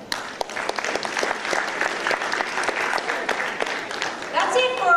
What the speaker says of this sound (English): That's it for our EL applause